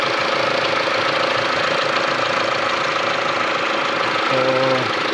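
A 2013 Mitsubishi L200 engine runs steadily up close after a crankshaft sensor replacement, a continuous even idle with a faint knocking edge and a slight swell near the end, no voices.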